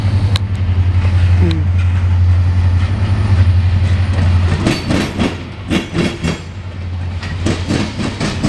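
A Norfolk Southern northbound local freight train reverses past in Marion, Ohio, with a steady low engine rumble giving way to rhythmic clicking and clanking of cars over rail joints, fairly close and without talk.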